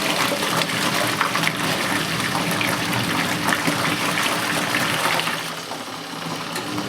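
Steady loud rush of water pouring into a compact twin tub washing machine, a continuous gushing flow close by that eases slightly near the end.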